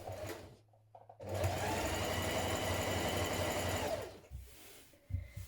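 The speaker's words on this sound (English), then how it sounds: "We're going to stitch across the top of our pocket hem here." Sewing machine stitching across a trouser pocket hem, a steady close motor whir with rapid needle rhythm running about three seconds after brief start-stop bursts, no talk.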